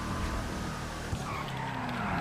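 Old-style muscle car engine of the Gauntlet Interceptor police car in GTA Online, a steady throaty drone with tires skidding and squealing across the stretch, loud and continuous without talk.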